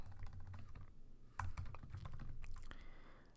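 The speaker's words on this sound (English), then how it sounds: "I type in the string Kakra" Typing on a computer keyboard: a quick, irregular run of close, crisp key clicks over a few seconds, with no talk.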